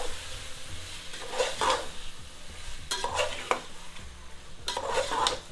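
Lamb or mutton browning with masala in a pot for dal curry, a low sizzle broken by repeated bursts of a spoon scraping and stirring against the pot, close and fairly quiet.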